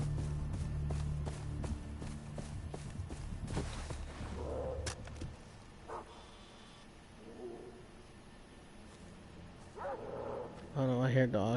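Dogs barking in the video game Far Cry 3, a few barks and yips mixed into a busy bed of game sound, with steps and other activity around them.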